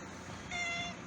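A cat outside a shop gives one short, faint meow over outdoor background noise, and no one speaks.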